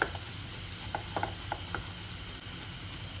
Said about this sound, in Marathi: आपला कांदा इथे छान फ्राय होतोय